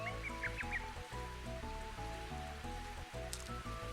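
Steady soft rain hiss in the Mario Golf video game, continuous and even throughout, sitting under louder game music with melodic tones.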